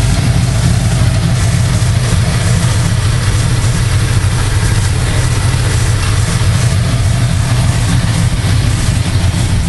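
A Cadillac race car fitted with racing slicks idles steadily, a deep, loud, even engine rumble that holds without change throughout and is heard alone.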